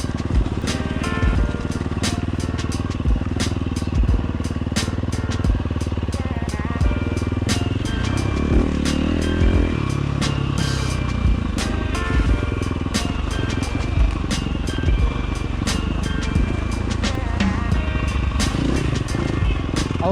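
A dirt motorcycle fitted with a Tokyo Mods Vortex ECU riding on a trail: a close engine that rises and falls with the throttle, with crackling pops and rattles over rough ground and wind noise throughout.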